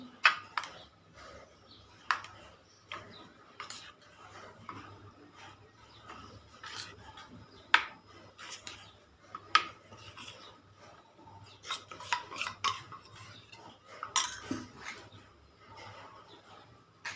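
Green spinach paste is stirred into white idli batter with a spoon, giving faint, scattered scraping and soft tapping clicks against the bowl in an irregular rhythm, close up and quiet, with no talk.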